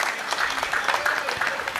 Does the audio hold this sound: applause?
yes